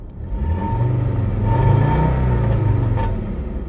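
Heard from inside the cabin of a VW Passat VR5 Syncro, the warm 150 hp V five-cylinder engine idles steadily, with a low hum that swells slightly in the middle before easing back.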